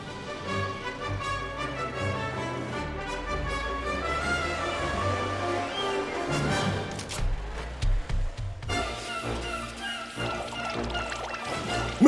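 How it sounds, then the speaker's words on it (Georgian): Cold water pours out in a steady gush at a car wash, running for several seconds beneath loud background music. "ცხელა, ახლა ცივწყალს დავლებდი."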